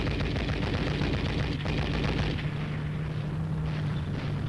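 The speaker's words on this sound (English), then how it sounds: "heavy automatic fire forces the rifleman to take cover" Dense, continuous roar of heavy automatic machine-gun fire and explosions in a tank battle, loud and sustained throughout with no breaks or talking.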